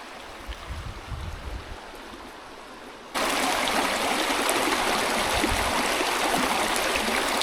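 Summit Creek, a cold mountain creek in Idaho's Boulder Mountains across from Park Creek campground, rushes in a steady close broadband wash that jumps louder partway through as the recording moves nearer the water.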